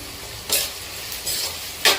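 Sliced green chillies and onions sizzle steadily in a pan for mango chitranna, with three or four short, brighter scraping bursts as they are stirred up close.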